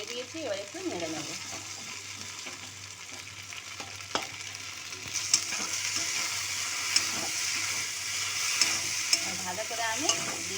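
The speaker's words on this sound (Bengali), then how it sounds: "ডিমটা এই তেলের মধ্যে দিয়ে দিয়েছি, এবার একটু নেড়ে নেব।" An egg cooks in hot oil with okra in a pan, giving a steady, close sizzle throughout, with light scraping and clicking taps as it is stirred.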